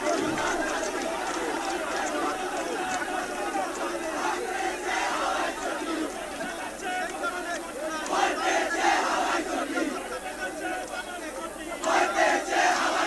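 East Bengal and Mohun Bagan football supporters protest outside the Yuva Bharati stadium in Kolkata, a large crowd roaring, chanting and shouting continuously with dense overlapping chatter at a distance.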